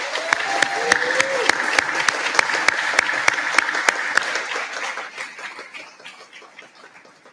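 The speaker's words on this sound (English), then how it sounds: "I think we should have another round of applause for the Ferguson family" An audience at an evening celebration event applauds the Ferguson family, with steady clapping and a few sharp nearby claps, before it tapers off and fades to quiet near the end.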